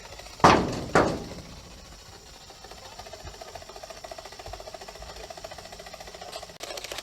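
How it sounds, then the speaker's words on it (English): Two sharp, loud knocks close together at the start, followed by quiet outdoor ambience, heard during a night ghost hunt in a park. "If I knock twice, you knock twice back?"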